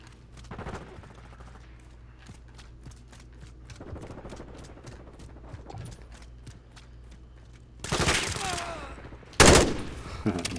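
Gunfire from the Call of Duty: Modern Warfare II multiplayer beta, with rapid-fire bursts, footsteps and game effects, building to loud close shots near the end, with a voice talking over parts of it.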